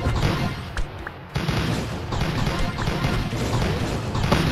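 Bombs going off in the video game Mario Party, a dense, continuous barrage of crashing booms and thuds, loud and close.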